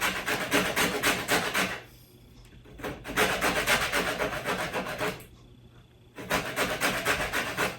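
Lemon zest is grated by hand in three bursts of rapid rasping strokes, close and rhythmic, separated by short quiet pauses.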